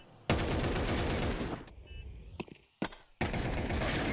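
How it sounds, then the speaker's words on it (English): Counter-Strike 2 match gunfire, with headshots landing together: dense bursts of rapid automatic fire broken by brief gaps and single sharp shots, loud and close with no talking. "Huge headshots, all in unison."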